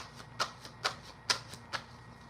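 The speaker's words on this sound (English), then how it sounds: "I love these cards. I like the way they sound. I like the way they shuffle." Tarot cards from a discount dollar store are shuffled by hand, giving five crisp riffling bursts at roughly half-second intervals, near and quiet, with no speech.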